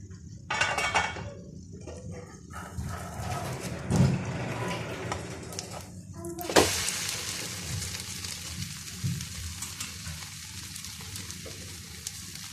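An oats and egg omelette sizzles steadily in a frying pan after being flipped, with a few sharp clinks of a utensil against the pan near the start and a constant hiss of frying throughout.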